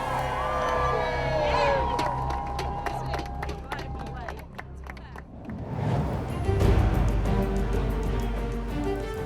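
Crowds cheer and whoop as the Liverpool home team yacht crosses the finish line of a Clipper ocean race, a loud, swelling roar with scattered shouts and tonal music or horns early on, mixed with bustling harbour noise.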